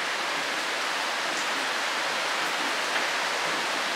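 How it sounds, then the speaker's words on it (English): Steady, dense hiss of heavy rain pouring down outside a house in Portugal, heard from indoors, without letup, loud and continuous with no voices. "you can probably hear the rain is belting down outside again"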